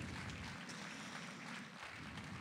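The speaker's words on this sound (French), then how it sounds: "Merci de vos applaudissements." An audience at an evening public talk in Pau applauds, a dense, steady wash of clapping throughout with no distinct individual claps standing out.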